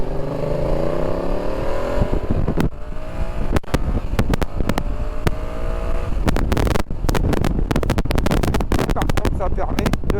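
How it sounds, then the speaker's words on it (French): A Yamaha Tracer 7 motorcycle riding through a commercial area, its engine pitch rising through several gears with short bursts of throttle, then choppy rumbling and sharp gusts of wind noise buffeting the rider's microphone. "Ça permet de donner des beaux petits coups d'accélérateur comme on les aime."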